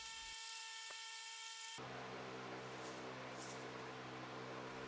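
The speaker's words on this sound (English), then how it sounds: "I made the decision to just keep using the angle grinder for this" An angle grinder cuts out a steel screw flight for a cyclone dust collector, with a loud, dense grinding rasp that kicks in abruptly after a thin high whine and holds steady.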